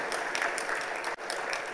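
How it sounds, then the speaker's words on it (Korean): Congregation applauding during a Sunday church service, a steady patter of hands filling the room for a brief moment with a short dip near the end. "경례의 박수 한번 부탁하겠습니다"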